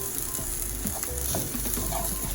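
Tofu frying in oil in a pan, a constant dense close sizzle with faint crackles and light stirring, loud and steady throughout with no talking.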